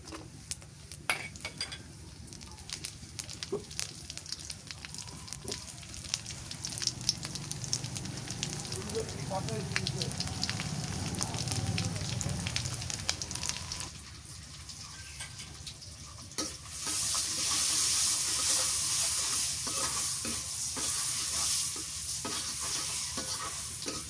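Dried chili and garlic frying in a pan over steady sizzle with occasional stirring scrapes, the hiss growing brighter and louder toward the end.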